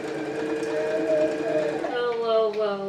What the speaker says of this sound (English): I ran out of bobbin. So now we have to wind that.